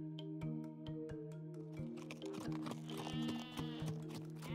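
A sheep bleats in a wavering cry that rises over steady sustained musical tones and regular knocking beats, played during a church worship service.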